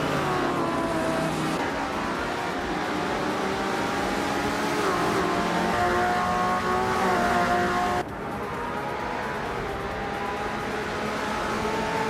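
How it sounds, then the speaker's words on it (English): Several racing cars, including a 1962 Ferrari 250 GTO, roar off the line at a video-game race start on an Alpine festival circuit, with layered engine drones, rising revs and gear changes sounding steady and close throughout. "the race is kicking off at the stunning Bernese Alps Festival track."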